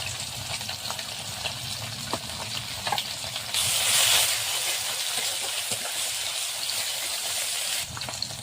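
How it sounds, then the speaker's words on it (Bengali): Water splashes into a hot pan of spices and fried onions, setting off a loud hissing sizzle that swells suddenly and then settles into steady frying. "বাটিটার মধ্যে যা মশলা ছিল এটাকে একটু জল দিয়ে গুলে দিয়ে দিচ্ছি"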